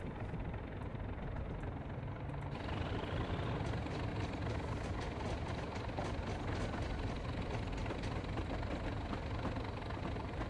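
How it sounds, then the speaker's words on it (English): A steady, loud diesel engine of a British Rail Class 37 locomotive drones continuously, with a deep low rumble and a rougher, rising tone partway through, like the locomotive idling or pulling away nearby. "the agricultural sound of the diesel engine of the locomotive"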